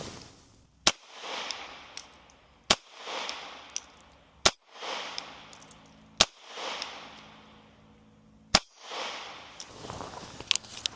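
Five sharp .380 ACP shots from a Bodyguard 2.0 pistol at an outdoor range, spaced about two seconds apart, each crack followed by a short decaying echo.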